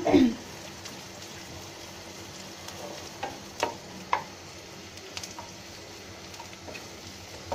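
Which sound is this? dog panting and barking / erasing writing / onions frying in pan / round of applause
onions frying in pan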